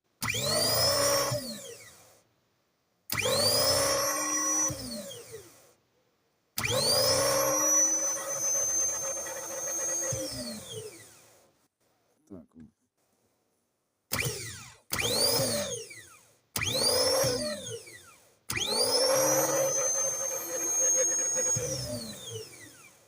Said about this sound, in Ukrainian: Ну все, стартер працює